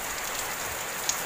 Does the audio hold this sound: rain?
yes